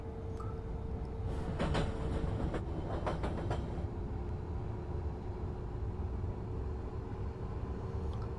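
A train rolls along in Train Simulator 2014, a steady low rumble with a few brief clicks and a faint tone partway through.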